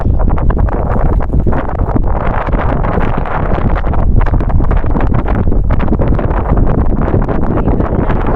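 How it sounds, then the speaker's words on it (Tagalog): Strong wind buffets the microphone throughout an outdoor hike among rock formations at Chung Hom Kok, Hong Kong, making a loud, continuous rushing roar. "Ay, ganda hangin"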